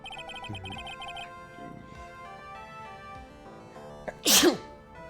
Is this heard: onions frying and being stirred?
no